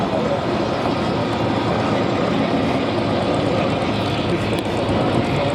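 A Bearcat propeller aircraft at the 2015 Duxford Flying Legends air show, its engine a loud, steady, broadband roar that holds without a break.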